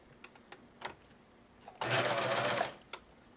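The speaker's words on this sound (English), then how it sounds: "So I am just going to stitch and stitch and stitch all 4 of the black strips." A sewing machine stitches black strips onto a woven summer placemat in one short, loud burst of rapid whirring that lasts under a second, set between scattered soft clicks and handling noises.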